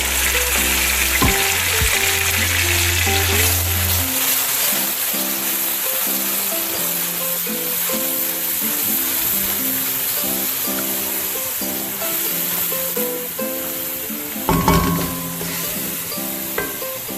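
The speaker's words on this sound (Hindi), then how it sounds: "लहसुन अदरक के पेस्ट को हमने लाइट ब्राउन कर लेना" Garlic ginger paste frying in a pan for fish curry, a steady sizzle with a broad hiss, over a low tonal background of music; a brief louder burst of sizzle near the end.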